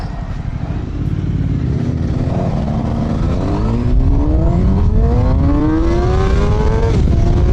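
Suzuki GSX-R750 sport motorcycle engine revving hard, rising pitch climbing through the gears in a loud, continuous high-RPM scream heard close from the rider's position, with wind noise underneath.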